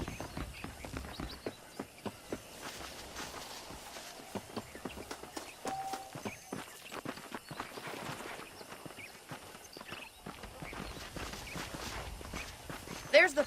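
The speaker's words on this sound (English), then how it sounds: "The horses are saddled up over here." Steady clopping of horse hooves on the ground in the video game Red Dead Redemption, a quick rhythmic patter that continues throughout at moderate volume, with some voices mixed in.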